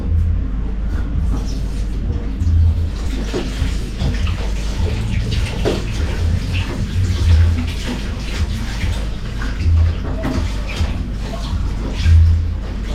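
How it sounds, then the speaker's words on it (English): Water runs in a sink in a steady, close splash as goat meat is rinsed for curry, with low thumps and handling noise underneath. "I'm going to take this over to the sink and give it a quick wash."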